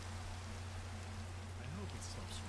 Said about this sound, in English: I hope it stops raining soon.